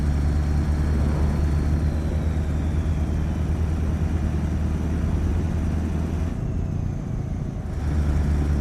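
Continuous, loud truck engine drone in the driving game Euro Truck Simulator 2, a steady low rumble that dips briefly near the end before resuming, with no talking.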